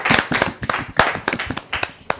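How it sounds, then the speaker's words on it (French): A small studio audience claps at the end of a question segment, the separate hand claps loud and close and bunched into an uneven, lively patter that keeps rising and falling. "Et applaudir."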